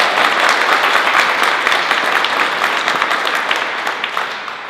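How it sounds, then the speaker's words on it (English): Loud, dense applause from an audience honoring a congressman at a community event, steady clapping throughout with no voices over it. "Please give our Congressman a round of applause."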